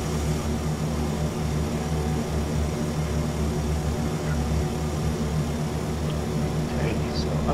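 A C-47 twin-propeller aircraft takes off in Microsoft Flight Simulator X, a steady loud droning engine roar held throughout, with someone talking over it.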